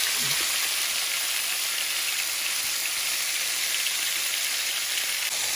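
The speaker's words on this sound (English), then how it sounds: "And then I add my stew meat to the drippings and some more oil to brown that up." Beef stew meat browning in olive oil and pan drippings, a loud, dense, continuous sizzle and hiss that stays steady and close the whole time.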